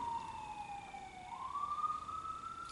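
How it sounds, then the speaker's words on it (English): An ambulance siren wails in a faint, distant sweep that slowly glides down and then back up, heard alone against low background hum with no talking. "there's an ambulance. I don't know if you can hear that. It's pretty loud where I am."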